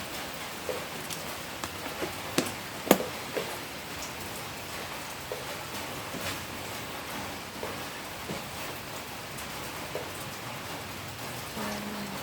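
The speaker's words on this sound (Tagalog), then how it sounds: "Parang mukhang maghapon tong ulan na to." Steady rain pours down, a constant hiss with scattered sharper drips and taps landing nearby.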